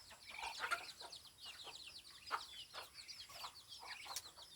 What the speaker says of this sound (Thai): ไก่กินเนาะ